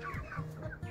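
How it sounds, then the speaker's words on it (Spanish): A broody hen clucks softly and repeatedly at close range, a low, murmuring series of short calls with no voices nearby. "Y ya está por acá la otra gallina"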